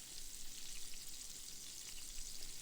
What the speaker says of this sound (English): I'm putting the salmon bites in there on its side so that I can sear them on each side